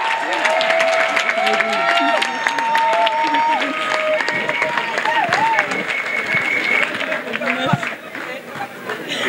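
A congregation at a national couples' retreat claps together as an offering of praise, lively clapping mixed with shouts, chatter and a leading voice throughout.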